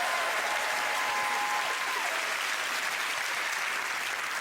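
Studio audience of the Blockbusters quiz show applauding two contestants: a steady wash of clapping, fairly distant and even throughout, with no talk over it.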